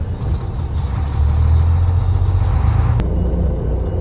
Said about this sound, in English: But when you put in neutral, it hits the RPM.